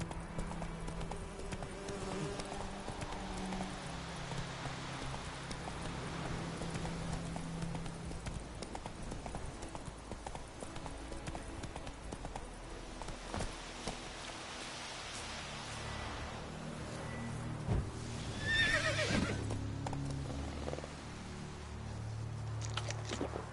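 Roach the horse in The Witcher 3 trots with steady clip-clop hoofbeats over soft rain and ambient game noise, and a brief neigh-like cry comes near the end.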